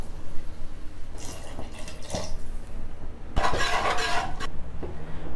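Water poured into fish biryani masala made with vanjaram fish and curd, a close, splashing gush of roughly a second that stands out over quieter kitchen noise.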